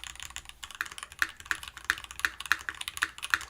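Keystrokes on a Tofu60 keyboard fitted with PBT keycaps and a brass plate, a steady run of crisp, close clacks at an even typing pace with no talking.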